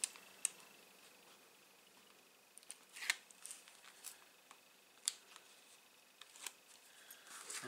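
Scissors snip through acetate sheet for a shaker gift box and Christmas cards, a series of faint, sharp, close cuts at irregular intervals in a quiet room.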